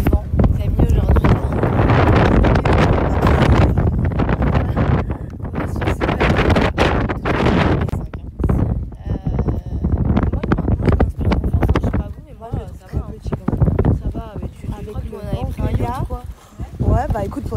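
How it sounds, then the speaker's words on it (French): Strong outdoor wind buffets a microphone in loud, rumbling gusts that nearly fill the whole stretch, with brief lulls, while people talk intermittently underneath. "il y a beaucoup de vent"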